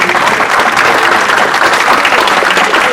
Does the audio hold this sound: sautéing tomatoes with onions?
no